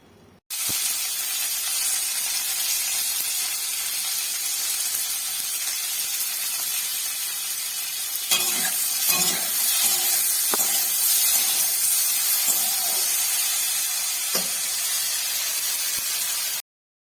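Maggi noodles fry in a pan with a loud, steady sizzling hiss that runs unbroken for about sixteen seconds, with a few soft clinks and stirring knocks partway through and no talking.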